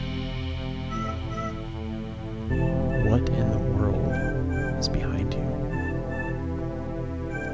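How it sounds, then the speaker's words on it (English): A cat meows inside a scary video game, its cries rising from sustained eerie game tones while a person talks excitedly over the top. "if that's the cat right there ahead of you"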